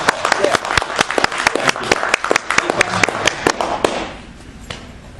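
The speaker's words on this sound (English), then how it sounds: "All right, you clap, please." An audience applauds right after a grassroots organizing speech, with dense clapping that rises and carries steadily for about four seconds before trailing off into scattered claps and room noise.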